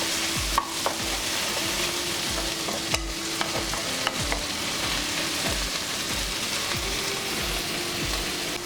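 Tomatoes fry in oil in a kadai for a phool makhana curry: a steady, dense sizzle with a rhythmic scrape of a spoon stirring against the pan, close and continuous, with no voices.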